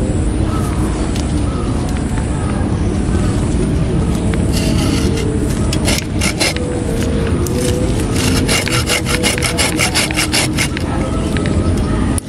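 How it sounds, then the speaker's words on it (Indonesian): A branch on a Premna microphylla bonsai is cut, a loud continuous rasping, scraping sound with repeated rhythmic strokes throughout, close up. "Pasnya tunas ini kita potong di situ ya."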